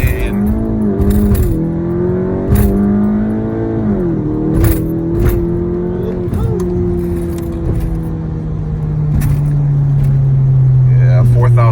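A VW GTI with an Integrated Engineering Stage 1 tune doing a 4,000 RPM launch with wheelspin: the engine is held at a loud steady drone that sags and recovers, then settles lower, heard up close.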